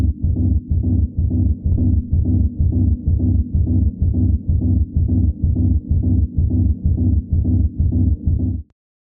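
A techno rumble bass compressed with a Slate FG401 thumps in a fast, steady rhythm of punchy, evened-out low hits, loud and alone for over eight seconds before cutting off.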